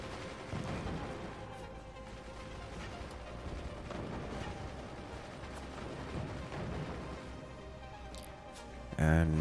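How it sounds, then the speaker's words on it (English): Heavy mortars firing in the strategy game Forts, a run of dull booms and thuds scattered through the clip under a commentator's voice, ending in a louder burst. "The heavy mortars are grinding away."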